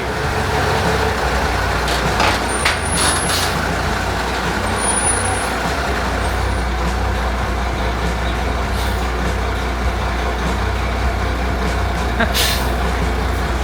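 A big truck idling with a low rumbling engine and hissing air brakes, steady and fairly loud throughout with faint sharp squeals above.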